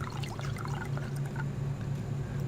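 Water pours onto crops in a survival video game, a steady close trickle and splash running continuously over a low game hum.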